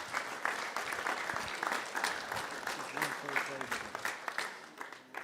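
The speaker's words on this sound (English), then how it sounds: "please give all the organisers a big round of applause" Audience applause at a cattle show on Virginia showgrounds, a steady dense clapping from a crowd with some voices mixed in, moderately loud throughout.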